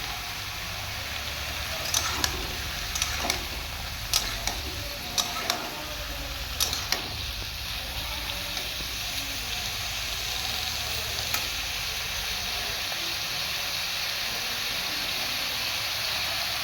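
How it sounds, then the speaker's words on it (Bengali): Slit green chillies sizzling in hot oil, a loud continuous hiss with sharp pops and crackles clustered early on that settle into a steadier fry. "আমি এর মধ্যে কাঁচা লঙ্কাগুলো ফেড়ে দিয়ে দিচ্ছি।"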